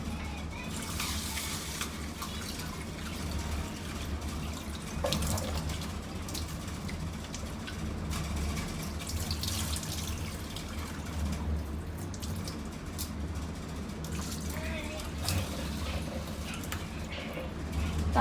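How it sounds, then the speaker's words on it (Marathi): One cup of rice is rinsed under a running tap, giving a steady, quiet wash of flowing water with faint splashes and no pauses. "तर आता आपण वॉश करूया तांदूळ"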